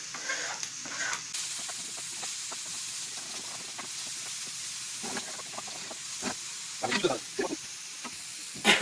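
Garlic and onion begin sizzling in hot oil, a soft frying crackle and hiss with scattered pops and stirring clicks, close and fairly quiet.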